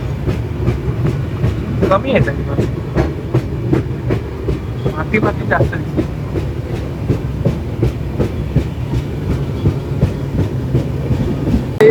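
A train rolling into Ratnagiri station on a Konkan trip, its steady clickety-clack of wheels over rail joints rumbling loud and close throughout, while people talk over it.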